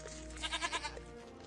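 A goat in the Minecraft Jurassicraft video game bleats in a quick wavering series of about four pulses, clear against a low steady background hum.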